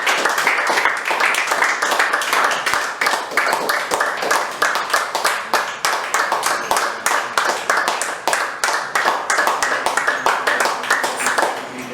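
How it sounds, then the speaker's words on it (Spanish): A church congregation claps together in strong, steady applause, loud and continuous with rapid rhythmic hand claps throughout and a few voices faintly under it. "Den un aplauso fuerte al Señor."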